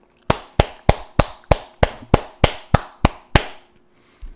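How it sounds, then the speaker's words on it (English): A streamer's cheeks clapping together, struck about ten times in a steady rhythm of sharp, close slaps, each with a short fleshy decay and no talk over them. "That's the sound of my cheeks clapping"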